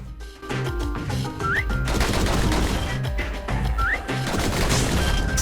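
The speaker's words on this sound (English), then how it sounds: "why am I shooting at targets that look just like me?" Rapid gunfire in the action game Bastion, a dense, continuous burst of shots against targets, loud and steady over game music and effects throughout.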